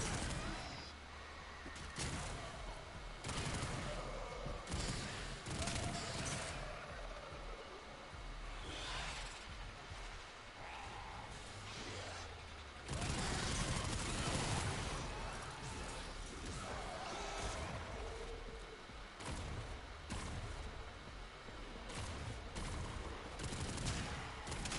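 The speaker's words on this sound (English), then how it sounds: "I think I found a new favorite gun." Rapid gunfire from a favorite gun in the Warframe video game, a dense stream of shots running throughout amid busy game effects, with talk over parts of it.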